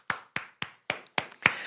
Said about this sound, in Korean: 오늘도 우리와 함께 하신 우리 하나님께 감사의 박수 올리겠습니다